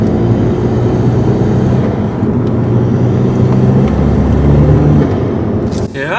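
A Skoda Octavia vRS 2.0 TDi fitted with a performance air filter induction kit accelerates hard in sport mode on a carriageway, its loud, droning engine note heard from inside the car with a shift in tone partway through.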